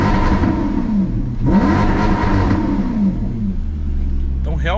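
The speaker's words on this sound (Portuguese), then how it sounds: "o ronco desse carro aqui é mais encorpado" A rare Maserati's engine revs with a deep, full-bodied roar that swells and falls in repeated bursts close by, while people talk over it.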